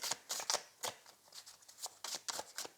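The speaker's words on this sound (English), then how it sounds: "it's such a slippery deck and it's so hard to shuffle" A slippery Neo Rider Waite tarot deck is shuffled close by, giving quick bursts of crisp riffling and card-flicking in an uneven rhythm, soft and isolated with no talking.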